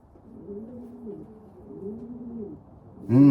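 Soft, low pigeon cooing, two rolling coos in succession, followed by a sudden louder bump at the end.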